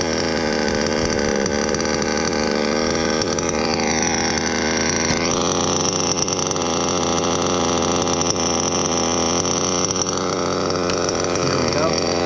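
Modded Novarossi nitro engine in an RC car idles steadily, a loud, continuous high-pitched buzzing drone with a brief rise in revs partway through, running close and alone throughout.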